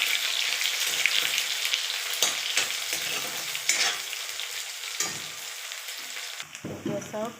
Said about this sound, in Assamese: পিঁয়াজখিনি ৰঙচুৱা হ'লে অলপ সময় ভাজি থাকিব লাগিব